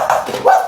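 A person briefly imitates a dog's bark with a couple of short vocal woofs, close and fairly loud.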